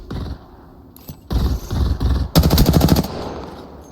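Automatic weapon fire in the shooter game Halo: short bursts of rapid, sharp shots separated by brief pauses, ending in a longer sustained burst, loud and close with no voices.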